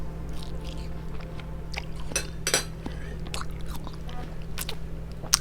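Close crunching and chewing of cheesy Doritos chips, irregular crisp bites and mouth sounds over a quiet low hum.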